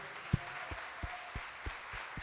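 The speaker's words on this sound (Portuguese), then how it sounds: "Você pode aplaudir esse Deus maravilhoso" A church congregation applauds during a sermon, heard as a faint, distant wash of clapping with a soft rhythmic thump every third of a second or so.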